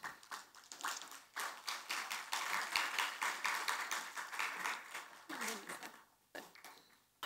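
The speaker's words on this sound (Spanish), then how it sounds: "Así que los recibimos con un fuerte aplauso." An audience at a panel talk on reputation and trust claps to welcome the speakers, a faint, fairly distant patter of hands that swells and thins across several seconds.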